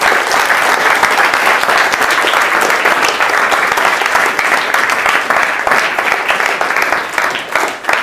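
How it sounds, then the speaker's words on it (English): A school audience in the UK gives a sustained round of applause for the students, with dense, even clapping from many hands that carries on steadily throughout and tapers slightly near the end. "I think they all deserve a round of applause"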